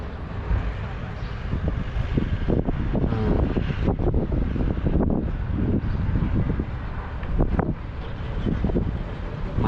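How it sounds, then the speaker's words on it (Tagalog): Strong gusting wind on a hilltop in Segovia, Spain buffets the microphone, roaring and rumbling in uneven surges throughout. "mahangin na dito sa taas"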